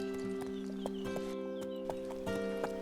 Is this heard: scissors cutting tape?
no